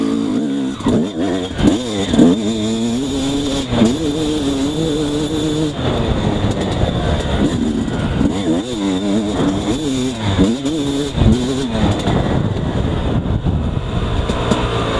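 A motorcycle engine fitted with a Keihin PWK Airstriker carburetor and jetting kit revs up and down continuously while riding, loud and close, with repeated rising and falling pitch sweeps and steady wind noise.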